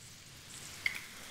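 Shredded Brussels sprouts sauté in a pan, a faint, even hiss of cooking with one small tick partway through, no voices.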